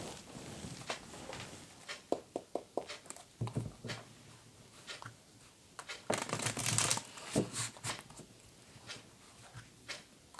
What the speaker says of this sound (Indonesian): terutama ketika aku shuffle kartu ini